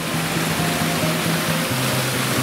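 A waterfall and a small river along a park path lined with trees, giving a steady, loud, even rush of falling and flowing water with no voices.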